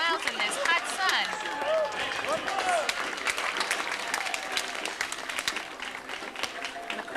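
A street parade crowd claps steadily and cheers for young girls marching past on a hot day, a dense, continuous wash of applause with a few whistles and voices mixed in.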